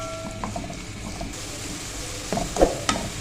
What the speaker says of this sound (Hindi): और इनको हमने लो फ्लेम पर हमने इनको फ्राई करना है